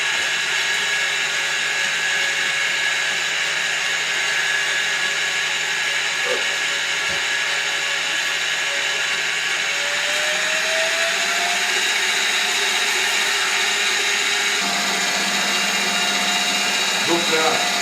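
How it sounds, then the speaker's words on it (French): An electric mixer whips egg whites with a pinch of salt for a chocolate moelleux. Its loud, steady high whirring motor runs without a break throughout. "Là, on va venir monter nos blancs tout de suite."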